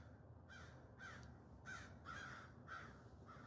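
Crows give warning calls at a predator such as a hawk or eagle, with about six harsh caws in a steady repeating rhythm, distant and faint against a quiet outdoor background.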